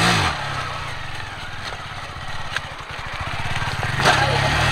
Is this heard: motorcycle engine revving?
yes